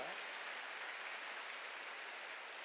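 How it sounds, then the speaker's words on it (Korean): Steady, dense applause from a church congregation at a Wednesday service, a continuous wash of clapping that holds at an even level throughout. "박수를 하세요."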